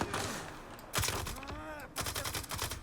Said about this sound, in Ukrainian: Ану, давайте постріляємось